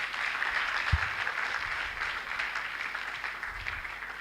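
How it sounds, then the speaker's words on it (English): An audience at an anniversary and induction ceremony applauds after an address, with steady, moderately distant clapping that runs throughout. "Let's not get tired of applauding them"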